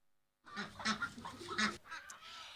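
Ornamental ducks or geese on a farm call in a burst of several honking, quacking notes. The calls are moderately loud and close, and a quieter call trails after them.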